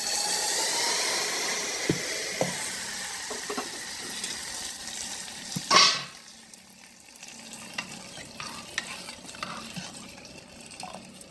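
A tempering of oil and spices crackles and sizzles steadily in a pan for red gram dal, a loud close hiss with scattered pops, then a sharp splash-like surge before the frying settles quieter.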